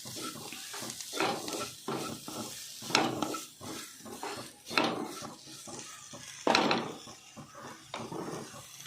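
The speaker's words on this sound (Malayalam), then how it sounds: "ഇനി നമുക്ക് തക്കാളി ഇടാം. ചെറിയൊരു തക്കാളി കുനുകുന അരിഞ്ഞതാണ്," Finely chopped small tomatoes fry with spices in a pan, a soft sizzle under repeated close stirring and scraping with clinks of a utensil against the pan.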